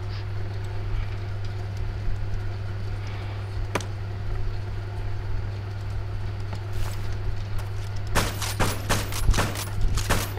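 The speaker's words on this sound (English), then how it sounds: "we have a different machine gun" Rapid bursts of machine gun fire from a weapon in vanilla Minecraft come in a quick, evenly spaced volley near the end, preceded by a single sharp shot, all over a steady background hum.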